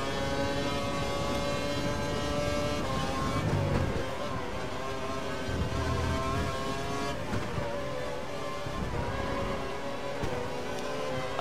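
Toro Rosso Formula 1 engine in the video game F1 2012 at the Hungary circuit, revving continuously with music-like tonal layers, brief tire squeals breaking through, all at a steady moderate level without speech.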